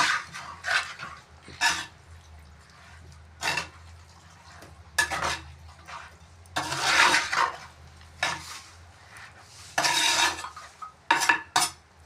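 Chicken curry stirred in a clay pot, with intermittent bursts of a spoon scraping and clattering against the pot separated by quieter pauses, close and moderately loud.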